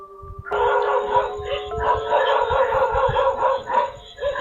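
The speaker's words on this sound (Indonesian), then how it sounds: "Nah, anjing itu ngegonggong ke ini kayaknya sih." A dog on a night-time market security camera recording barks and howls repeatedly in a continuous, moderately loud stretch against a steady electronic hum.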